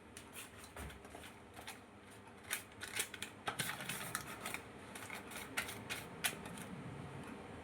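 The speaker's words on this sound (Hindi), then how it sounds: "बटर पेपर को कंटेनर के साइज में काट लेते हैं" Butter paper being snipped with scissors to fit a cake container, a run of close, crisp cutting snips and rustling paper, quiet, with no talk.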